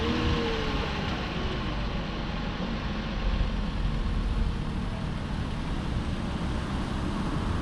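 A 2020 Toyota Camry TRD engine runs at a steady idle after starting, a continuous low rumble with a constant broadband hum, close and even throughout with no talking.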